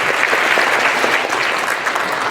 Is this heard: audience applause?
yes